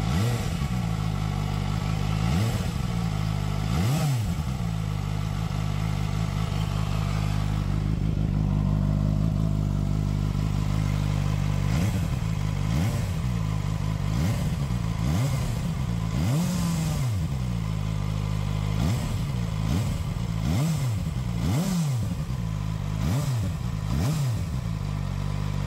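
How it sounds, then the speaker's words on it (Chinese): ZXJC 500RR motorcycle engine running after 1000 km of continuous riding, a loud steady engine drone with repeated rising and falling revs and some mechanical clatter, close up with no talk. "我们来听一下1000公里后发动机的声音。"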